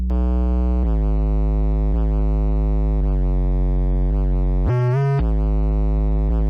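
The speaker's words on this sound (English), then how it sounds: "So let's get some distortion up in here." A sustained, buzzy future bass synth tone in FL Studio with gritty distortion, holding steady notes that shift pitch every second or so, with one brief higher, harsher burst near the end.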